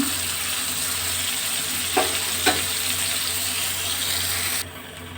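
Green chilies and a tablespoon of sugar drop into a pan of sour mango dal, which sizzles and bubbles as a steady broadband hiss. Two soft clicks come near the middle, and the hiss drops abruptly near the end.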